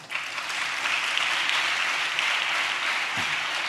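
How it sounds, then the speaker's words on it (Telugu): A church congregation claps for a girl, dense steady applause filling the room at a constant loud level throughout. "ఈ చెల్లికి అందరు చప్పట్లు కొట్టండి"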